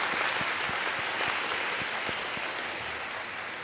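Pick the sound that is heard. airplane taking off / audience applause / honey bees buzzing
audience applause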